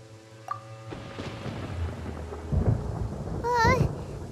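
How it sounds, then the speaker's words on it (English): Thunder in the video game Genshin Impact: a deep rolling rumble builds and swells over a few seconds, with rain-like hiss beneath and a brief warbling tone near the end. "Paimon hears thunder!"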